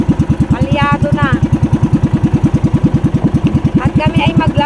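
A motorcycle engine with a worn, misfiring carburetor runs loud and close with a rough, steady thumping beat, its uneven pulses continuing throughout while someone talks over it.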